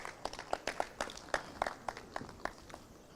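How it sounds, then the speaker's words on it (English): Scattered clapping from a conference audience at a Nigeria Economic Society gathering: a dozen or so sharp, separate claps at uneven spacing that thin out toward the end, with no talk. "can we give him a round of applause?"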